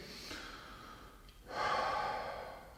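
Deep abdominal breathing during a qi gong exercise: a soft breath is followed by a longer, stronger, airy exhale that swells and then slowly fades. The breathing is heard alone, up close.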